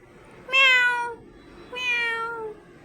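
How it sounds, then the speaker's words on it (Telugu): A cat meows twice, close and fairly soft, each meow lasting about half a second, separated by a short pause in a quiet room. "ఒక పిల్లి వచ్చింది, పుసికేట వచ్చిందా?"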